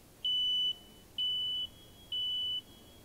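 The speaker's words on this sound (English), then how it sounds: "Ask a parent to help you test the smoke alarms in your home" Three loud, evenly spaced electronic beeps from a smoke alarm, each about half a second long, with quiet pauses between and no talking.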